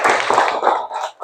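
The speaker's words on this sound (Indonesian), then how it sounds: "Kita tepuk tangan dulu deh buat Yasmin." A classroom of students claps briefly for a classmate named Yasmin, a short, close burst of many hands fading out within about a second.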